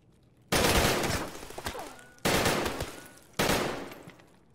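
Three bursts of rapid automatic gunfire from a video game, each loud and sudden, then trailing off before the next begins, with no voices over them.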